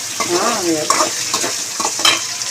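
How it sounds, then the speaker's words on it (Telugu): Onions and green chilies fry in a pan for a brinjal coconut fry, giving a steady broadband sizzle with a few louder stirring scrapes and spatters, close and fairly loud, with no talk. "ఉల్లిపాయలు పచ్చిమిరపకాయలు మొక్కలు కోసించుకున్నాం కదా అవి వేసుకుంటున్నాం బాగా"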